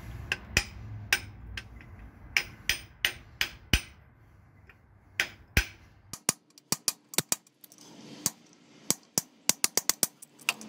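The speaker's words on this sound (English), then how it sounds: "grab your mallet again and your 32mm socket and just whack it home" A mallet strikes a 32mm socket again and again, driving an engine part home on a 3RZ engine during a balance shaft delete. The sharp metallic whacks come in an uneven series, close and loud, growing quicker and denser toward the end.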